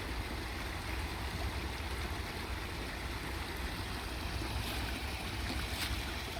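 A small clogged stream, just cleared with a stick, trickles and burbles steadily along a quiet wooded trail beside a truck stop, a faint continuous wash with no voices.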